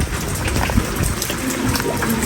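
Steady rain falling, a dense continuous patter with a watery rush, close and fairly loud, with no talk over it.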